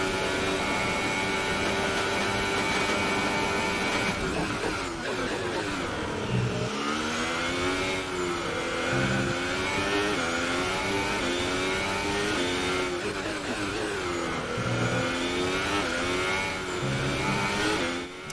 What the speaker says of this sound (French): Ouverture du DRS pour la Ferrari de Giovinazzi